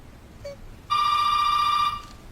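A telephone rings in the film A Snake of June, one loud, sustained electronic ring lasting about a second over a quiet background.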